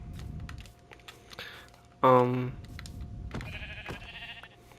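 A sheep bleating sound effect plays as a single loud, wavering bleat, preceded and followed by soft keyboard clicks and faint background noise.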